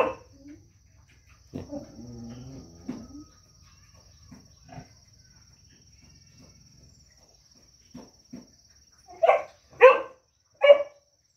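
A hunting dog barks in short bursts, faint at first and then three loud, close barks near the end, in a quiet outdoor setting.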